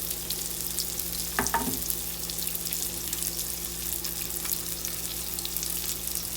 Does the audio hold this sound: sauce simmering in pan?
yes